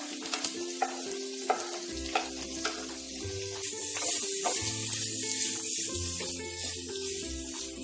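Onions fry in a pan after garlic for a Mangalore-style chicken sukka. A soft, steady sizzle plays under repeated light scraping and clinks of a spoon stirring against the pan.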